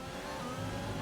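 Formula 1 race car engine in the F1 2020 video game at the Austria track, a steady loud high-pitched roar of acceleration with DRS open on the final lap, running continuously with no speech.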